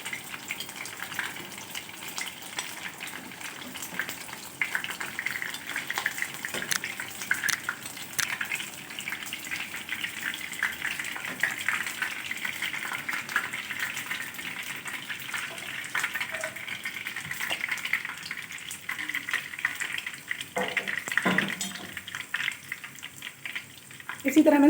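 Aubergines fry in oil in a pan with a steady crackling sizzle that runs the whole time at moderate volume. A few clunks sound near the end.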